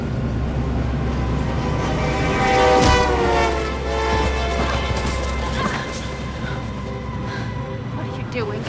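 A train passes close by with a loud sustained horn blaring over heavy rumbling and rail clatter, the horn fading partway through while the train keeps roaring.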